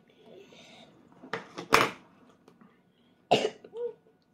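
A three-year-old child coughs several times in short bursts while eating, with a pause between the loud hacks and some quiet sounds around them.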